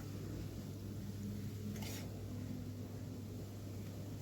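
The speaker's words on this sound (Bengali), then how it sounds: "গাজরটা ভাজার ফলে দেখবেন এর কালারটা একটু চেঞ্জ হয়ে যাবে" Carrots frying in ghee in a pan for carrot halwa give a steady, soft sizzle and hiss throughout, with one brief scrape partway through and no voices.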